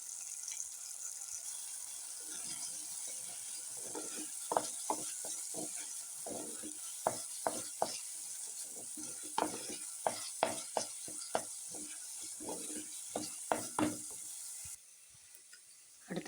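Onion and tomato sautéing in a pan with pepper and chili powder for a fish curry, a steady sizzle broken by repeated sharp spoon scrapes and taps in an irregular rhythm.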